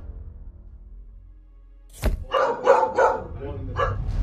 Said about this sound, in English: This poor dog was also found in a basement of a destroyed building.